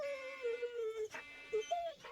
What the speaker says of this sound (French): Chaka, la chienne, émit un grondement qui se transforma en gémissement.